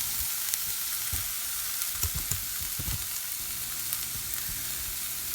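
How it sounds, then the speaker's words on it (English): Soup ingredients and seasonings sauteing in a pan, stirred constantly so nothing burns: a steady sizzle with occasional soft scrapes and stirring knocks, close by, with no voices. "As I'm sauteing this, I'm constantly moving everything around in the pan because I don't want anything to burn."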